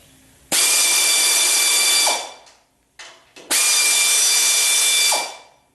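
Power tool whirring on a rear crash bumper bolt of a 1976 Corvette, two loud sustained bursts of about one and a half seconds each, each winding down, with a short pause between, up close.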